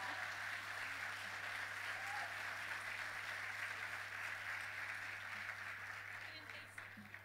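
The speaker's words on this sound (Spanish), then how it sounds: "Pueden aplaudir mientras." Audience applause at a municipal public accounts address in Melipilla, heard as soft, distant, steady clapping that fades slightly near the end, with a low electrical hum underneath.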